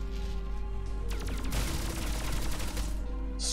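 Dense, rapid gunfire in the video game Death's Gambit during a boss fight, a loud sustained volley of sharp cracks over a steady low background hum.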